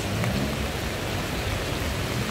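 Heavy rain falls steadily during a flood in Sidrap, a dense, continuous, loud hiss of downpour with no breaks and no voices.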